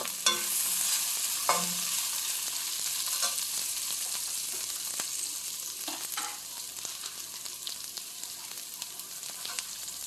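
Curry leaves fry in hot oil in a pan while cooking a chicken curry with peas and potato, giving a steady loud sizzle with scattered sharp crackles and pops throughout.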